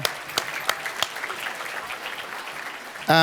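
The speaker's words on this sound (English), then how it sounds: "let's give them a round of applause" Audience applause at a Jewish California Capitol Summit for the group leaders, a steady dense clapping wash at moderate level with a few sharper claps standing out, then a sudden louder burst at the very end.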